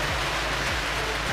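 Heavy rain pours steadily outside during a power flicker, a dense continuous hiss with a low electrical hum beneath, constant and unbroken throughout.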